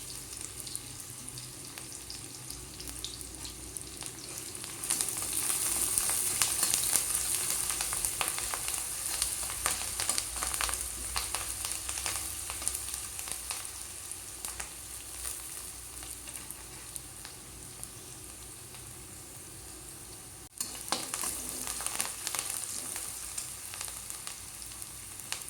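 Ginger paste frying in hot oil in a pan with curry leaves and garlic for a tomato dinner, a steady close sizzle that jumps louder partway, hissing continuously without talk.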